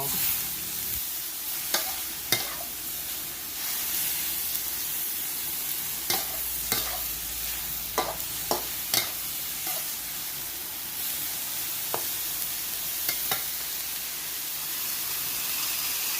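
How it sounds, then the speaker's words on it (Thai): Long beans stir-fried in a pan with a splash of water, a steady close sizzle and hiss broken by repeated sharp scrapes and clanks of a spatula against the metal. "เติมน้ำลงไปเล็กน้อย ผัดต่อไปอีกสักพักหนึ่ง ก็จะได้แล้ว"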